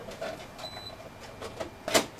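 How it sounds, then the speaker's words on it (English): A card printer at a biometric smart card enrollment and issuance station prints a smart card, giving faint mechanical whirring with a few soft clicks and a louder short burst near the end, with no talk. "that's going to send off that information over to this printer and load that data onto a card and print the"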